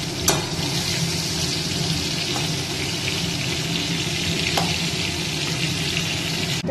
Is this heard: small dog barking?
no